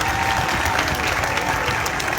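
A rally crowd applauds a woman, with sustained, dense clapping that stays loud and steady throughout.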